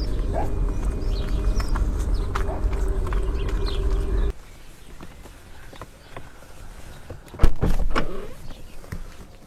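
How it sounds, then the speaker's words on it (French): A BMW i8 power window motor hums steadily for about four seconds as the glass lowers fully into the door, then stops. A louder thump or clunk follows later, close by. "pour que la fenêtre descende complètement"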